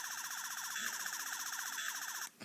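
Toy 11th Doctor sonic screwdriver sound effect: a bright, electronic warbling whine that pulses in a rapid repeating pattern before cutting off abruptly, fairly close and alone.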